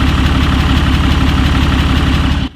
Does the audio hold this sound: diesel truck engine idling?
yes